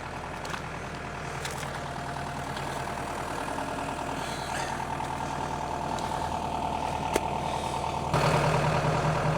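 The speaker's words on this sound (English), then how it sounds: "I got the tractor pulled up to the feeder wagon" A farm tractor idles steadily near a feeder wagon, a constant mid-low engine rumble with a slight rise in loudness and a heavier low throb toward the end, with no talking.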